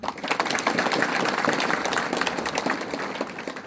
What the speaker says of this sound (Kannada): ನಿಜವಾಗ್ಲೂ ಅವರಿಗೆ ಒಂದು ದೊಡ್ಡ ಚಪ್ಪಾಳೆ